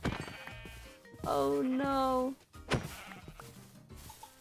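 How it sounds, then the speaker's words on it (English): A sheep in the Minecraft video game gives a clear, wavering bleat lasting about a second, followed by a shorter second bleat, with a person talking before and after. "A sheep up here? Is there a sheep up here?"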